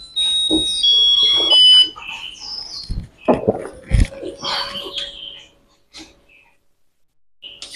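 A Japanese electric rice cooker plays its electronic melody chime: a bright run of clear beeping tones near the microphone for about two seconds, followed by scattered clicks and handling knocks, then quiet.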